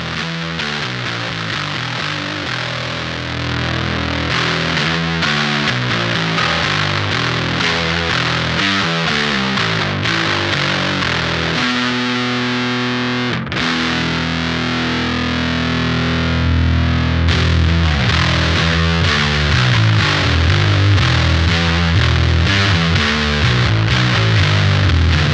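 Bass guitar played through an LBF Pedals Fuzz Cauldron fuzz pedal with the EQ set at noon. Thick, heavily distorted notes come in sustained chunks and shifting riffs, loud and continuous, with a brief break midway and no voice.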